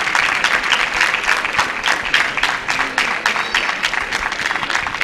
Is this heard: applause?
yes